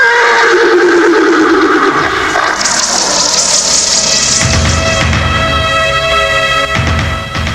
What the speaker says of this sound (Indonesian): Kembang Joyokusumo segera melompat di atas punggung Jaran Sembrani atau kuda api terbang itu